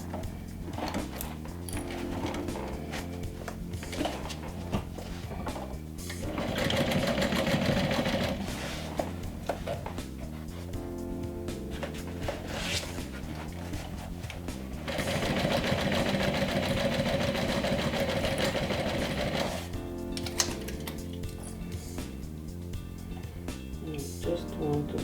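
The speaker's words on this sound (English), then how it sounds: "I'm gonna go ahead and stitch it down with a 3/8 of an inch seam allowance" A sewing machine stitches a 3/8-inch seam on a small backpack, running in two steady whirring bursts of several seconds each with pauses between, close and fairly loud over faint room noise.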